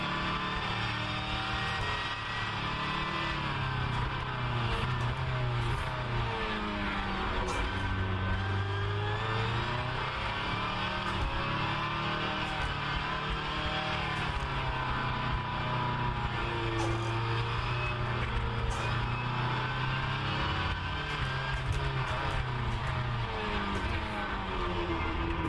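A hypercar from the Storm Gang mod for rFactor 2 drones steadily for the full stretch, its simulated engine note rising and falling through revs and shifts with no pause.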